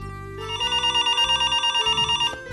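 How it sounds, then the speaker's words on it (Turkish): An old-style telephone bell rings in a rapid repeated trill, loud and close, after a brief electronic tone, with no speech over it. "Sabri Bey, telefon."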